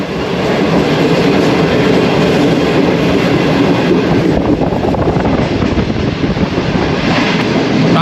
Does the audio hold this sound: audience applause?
no